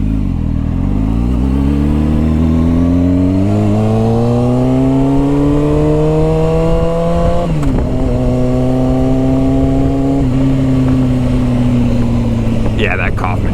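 A motorcycle fitted with a Kaufman shorty exhaust revs up, its engine note climbing steadily, easing off briefly, then holding a loud, close drone.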